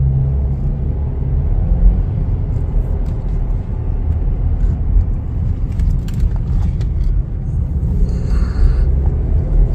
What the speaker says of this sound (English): We have it in gear. Let's go ahead and take it for a little spin.